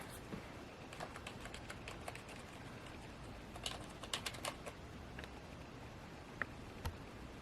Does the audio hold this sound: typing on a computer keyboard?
yes